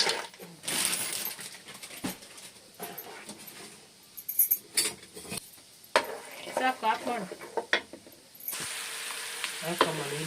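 Peanuts sizzle and crackle in hot oil in a pan while being fried for Iyengar-style puliyogare, with stirring clinks and scrapes scattered over a steady frying hiss.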